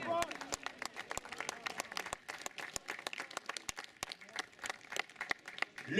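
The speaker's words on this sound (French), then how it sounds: "On applaudit encore s'il vous plaît." Audience at a trophy ceremony applauding, with distinct sharp claps scattered at moderate distance and fairly faint, while a voice speaks over the clapping.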